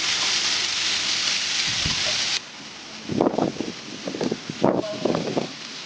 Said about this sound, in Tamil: இங்கே பயங்கர காற்று அடிச்சிட்ருக்கு